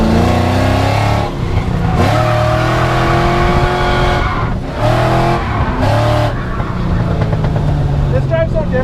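A V8-swapped Mazda RX-7 drifts with a loud, continuous engine roar, its pitch climbing and falling through revs while the tires slide and squeal, and voices talk over it.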